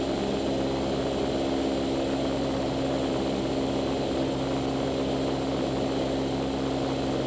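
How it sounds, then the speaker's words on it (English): Small propeller airplane in flight on a pilot training lesson, heard from inside the cabin as a loud, steady engine and propeller drone with no break. "I'm gonna get the airplane going back into the wind again."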